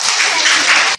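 Audience clapping at a primary school pupils' speech event, a loud close burst of many hands clapping together that stops abruptly after about a second.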